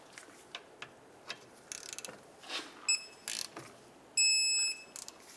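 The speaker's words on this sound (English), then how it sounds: "We'll tighten it up and torque it to 32 foot-pounds." A brake caliper slider pin on a 2007-2010 Chrysler Sebring rear brake is tightened and torqued by hand. Quiet, scattered ratchet clicks and metal taps are heard, along with a few short electronic beeps, one of them held.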